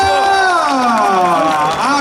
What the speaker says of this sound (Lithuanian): Ponai ir ponios, jūsų garsus aplodismentai Varnalėša!